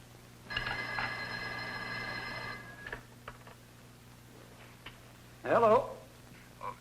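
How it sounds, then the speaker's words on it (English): An indoor telephone in a 1962 film rings in one long burst of about two seconds, then stops; a few soft clicks follow before a voice speaks briefly. "Ruth, don't you hear the phone?"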